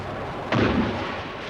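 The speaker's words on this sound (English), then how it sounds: "these aircraft bombed and strafed the fleet sitting in the bay" A single heavy blast from bombing aircraft attacking warships in a bay during the 1982 Falklands War bursts out over a low rumble, then fades gradually.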